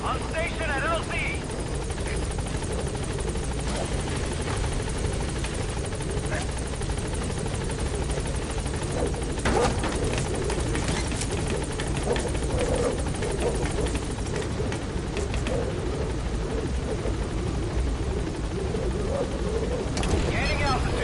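B-Quad helicopter in Metal Gear Solid 5 coming in to land, a steady heavy rotor drone and engine whine filling the whole stretch, with radio chatter from the game over the top.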